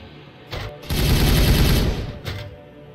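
A burst of rapid automatic gunfire in the Warhammer 40K Regicide video game, a dense, loud rattle lasting about a second, with brief shorter shots just before and after.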